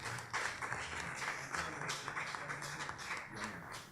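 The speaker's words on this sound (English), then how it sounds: "Another round of applause for our panelists." Audience applause fills a panel event on the 1968 UWI student protests and the Rodney disturbance, a steady wash of many hands clapping at moderate distance, sustained throughout without a break.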